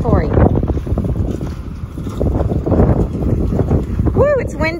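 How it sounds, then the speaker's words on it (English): Wind buffets the microphone on a farm with a continuous low rumble throughout, while a voice talks underneath and a brief high whooping call rises near the end. "it's windy today"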